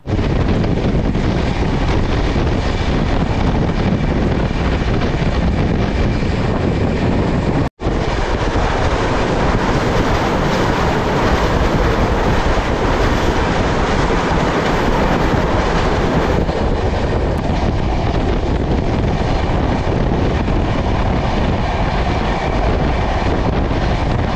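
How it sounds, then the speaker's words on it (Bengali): Tamralipta Express passenger train running from Howrah toward Digha, a loud steady roar of wheels on rails with rattling carriages and wind rush, continuous and close throughout with one brief dropout. "উলুবেড়িয়া থেকে আমাদের ট্রেন ছেড়ে দিল আর আমাদের পরবর্তী গন্তব্য হলো মেছেদা।"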